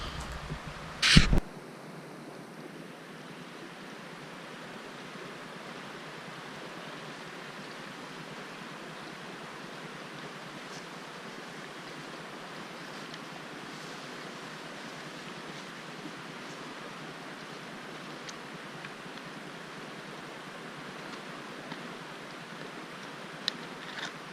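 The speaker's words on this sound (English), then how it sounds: "a good tent spot right next to the flowing river" A river flows right beside a campsite on the North River Gorge Trail, a steady broadband rush that runs unbroken throughout, with one sharp knock near the start.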